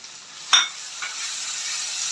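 Whole spices and ground masala (turmeric, cumin, coriander, garam masala, cardamom, cloves, cinnamon) frying in a pan for egg curry, a sharp sizzle burst followed by steady, close sizzling with a faint stir.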